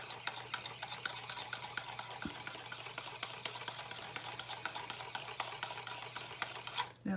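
Dalgona coffee mixture with espresso is whisked by hand in a bowl, a quiet, fast and continuous rhythmic clinking and swishing that runs steadily before stopping abruptly near the end.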